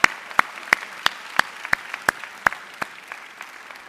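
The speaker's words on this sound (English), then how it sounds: "Can we give all these recipients a round of applause?" Sparse, slow clapping from a graduation ceremony audience at Atlanta's John Marshall Law School honoring award recipients, with about a dozen distinct claps at a steady pace, fairly close and not very loud.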